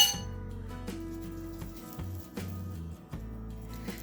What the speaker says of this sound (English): Now I'm just going to take some out with a spoon